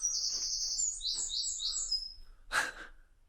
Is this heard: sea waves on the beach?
no